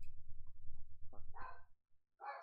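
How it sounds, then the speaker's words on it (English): A pet dog barks indoors at home in a couple of short, moderately loud bursts near the end, over a steady low background hum. "so my dog might bark a few times"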